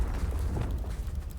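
Confringo explosive spell cast in the Hogwarts Legacy video game, a deep rumbling blast with heavy low boom and crackling spread, brief and close.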